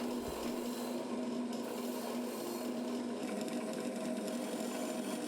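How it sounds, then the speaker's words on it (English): A brass wire brush in a pillar drill whirs steadily against a hand saw in a continuous close grinding rasp over a constant motor hum, with no pauses or voices. "I'm going to use a brass brush in the pillar drill"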